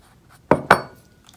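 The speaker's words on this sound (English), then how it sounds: "Here is the Böker thumb hole shaving mug." Two sharp ceramic clinks sound close together as a Böker ceramic thumbhole shaving mug is handled, each a bright knock with a short ringing decay, in an otherwise quiet room.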